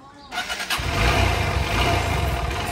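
A second-hand motorcycle engine cranks briefly and catches, then settles into a steady close-up idle rumble.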